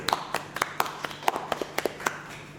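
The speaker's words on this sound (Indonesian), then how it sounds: "Tepuk tangan lagi." A small crowd claps at a campaign event for a young legislative candidate, a thin scattering of separate hand claps rather than full applause, moderately close and fairly quiet, with no talking over it.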